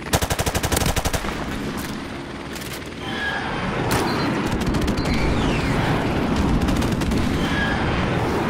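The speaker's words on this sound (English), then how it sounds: "Friendly airstrike on the way!" Airstrike in Call of Duty Modern Warfare Remastered, with rapid gunfire at the start, then sustained rumbling booms and explosions under continuous battle noise.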